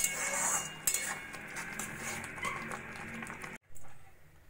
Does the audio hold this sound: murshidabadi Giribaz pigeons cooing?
no